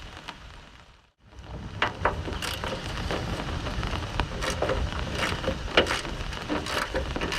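Steady rain patters and hisses across surfaces, with scattered heavier drops and splashes standing out from the continuous wash of sound.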